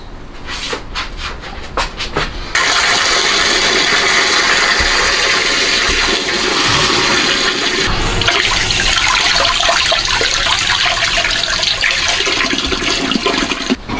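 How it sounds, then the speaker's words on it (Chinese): Pork belly pieces being washed under running water, a loud continuous rush and splash that starts abruptly after a few seconds of clatter and carries on steadily, with no talk. "咱把肉去清洗"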